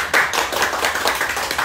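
A brief burst of several people clapping hands together, close and lively, with no speech.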